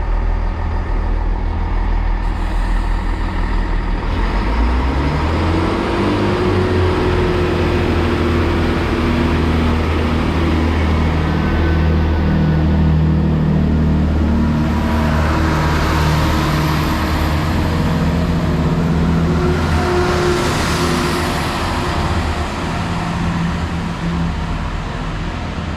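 A diesel train, unit 166218, rumbles as it pulls away from a station, engine pitch rising and throbbing steadily, loud and close, with a long continuous roar throughout.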